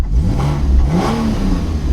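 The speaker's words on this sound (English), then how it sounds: "when you put the Sports Plus on, it just kind of changes the whole kind of tone of the car." A Porsche Cayman 981 engine with sports exhaust revs up loudly and close, rising and falling in a throaty burst with a deep exhaust rumble.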